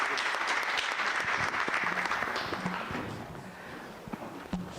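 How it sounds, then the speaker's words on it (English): An audience in a hall claps together for people leaving a high table, steady scattered clapping at moderate distance that gradually thins and fades, with a few louder individual claps near the end. "Please, let's clap for them."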